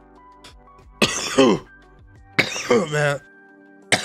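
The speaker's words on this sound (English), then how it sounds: "excuse the cough, guys. It's just, this cough has not been able to get rid of me at all." A person coughs hard twice, two rough, throat-clearing bursts spaced about a second apart, close to the microphone during an NBA 2K23 MyTeam gaming session, with a brief muttered remark in between.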